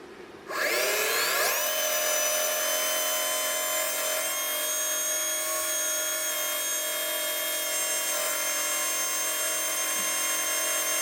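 A small electric motor with a freshly oiled commutator spins up quickly from silence, then holds a loud, steady high-pitched whine with a bright harmonic buzz throughout.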